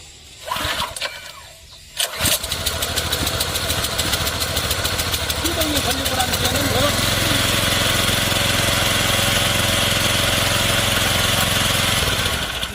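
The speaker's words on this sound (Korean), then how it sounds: "자, 그러면 한번 시동을, 시동을 한번 해보겠습니다." A wheeled engine-powered agricultural sprayer being pull-started: a few rattling pulls and a cough, then the engine catches and settles into a loud, steady, close running drone.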